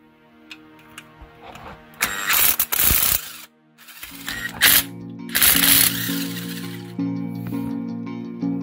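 A ratchet wrench turns a 12mm bolt underneath an Infiniti engine during an oil galley gasket repair, giving bursts of loud, close clicking separated by pauses, with clanks as the tool shifts.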